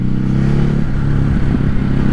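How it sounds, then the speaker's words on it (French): A 2021 Ducati Hypermotard RVE shifting gears on the quickshifter while riding, its engine droning loud and steady at speed with a brief dip in tone at the shift amid wind rush. "Vous voyez, ça fonctionne très bien au shifter. Vous pouvez passer les vitesses, moi j'appuie à peine"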